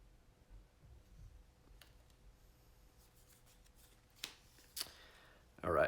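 Playing cards for a Star Wars Escape from the Death Star board game rustle and slap softly, close and faint, with a sharper shuffle-like flurry at the end.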